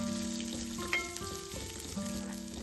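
Ginger, garlic, green chilli, sliced shallots and curry leaves sautéing in a pan for mango rasam: a soft, continuous sizzle, close and fairly quiet, with one brief clink.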